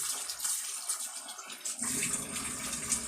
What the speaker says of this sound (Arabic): زي ما انتوا شايفين كده غسلناها ونصفيها بقى في المصفى